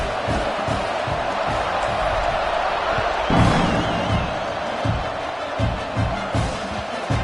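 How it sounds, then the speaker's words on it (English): A stadium crowd in the NCAA 26 football video game cheers at kickoff, a broad, continuous roar with scattered whoops and thumps throughout, a little louder after the midpoint, with no clear speech. "They're set to kick it off, and this crowd now ready to get behind them"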